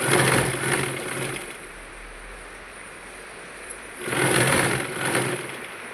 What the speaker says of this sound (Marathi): तर मी ते शिलाई मारून घेत आहे